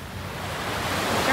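Ocean waves washing onto a beach at Phu Quoc, Vietnam, a continuous surf wash that swells slightly louder toward the end, with no speech.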